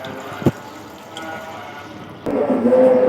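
One and a half to two glasses of water are poured into a pot of beef masala, a short clunk followed by a steady liquid pour that grows louder and fuller near the end, with no speech.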